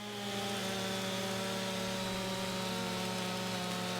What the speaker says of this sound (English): It's not the best animation with the chainsaw because clearly this chainsaw isn't going to cut this tree like this